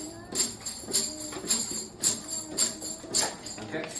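Hand shaker being shaken in an even rhythm, about two crisp rattling swishes per second, fairly soft and close, with no talking.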